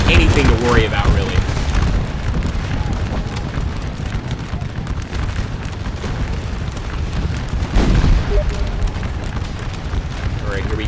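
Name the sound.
cannons firing at French artillery in Scourge of War Waterloo video game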